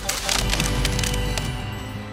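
Propellers of a DJI Mini 4 Pro drone clip tree branches, a dense burst of rapid snapping, cracking hits over a loud continuous buzz, close and harsh, easing off toward the end.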